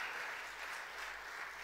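Dense, steady applause from a large audience rolls on without pause at a ceremony in Bhopal honoring successful UPSC candidates, heard from some distance at a low overall level.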